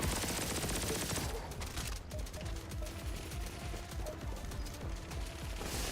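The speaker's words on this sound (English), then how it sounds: "that power is so good with the cluster bombs" Cluster bomb explosions in the shooter game Turbo Overkill, a rapid, dense volley of sharp blasts and mechanical clatter that starts at full loudness and rattles on continuously.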